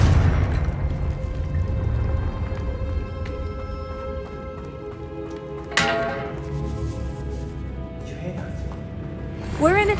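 A Confringo blasting spell goes off in Hogwarts Legacy inside a tomb, a sharp burst near the middle followed by a second blast at the end over a low rumbling game soundtrack.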